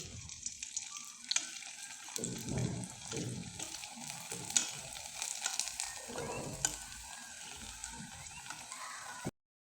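Flour pitha frying in hot oil, a steady close sizzle with soft bubbling and occasional stirring scrapes throughout, no talk.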